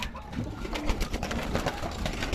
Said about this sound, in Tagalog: Yung kalapate ko dito, pinapakain ko Integra 3.